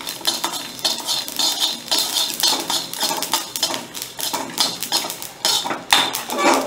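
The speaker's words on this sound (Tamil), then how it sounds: "கடுகு பொரியுது." Mustard seeds and chillies splutter in hot oil while tempering ajwain kuzhambu, a dense, continuous crackle of sharp pops and sizzling, close and fairly loud with no talking.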